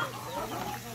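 A chicken clucking close by on a farm, a brief burst of throaty, fluttering fowl calls against faint background noise.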